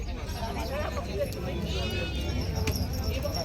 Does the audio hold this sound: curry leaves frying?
no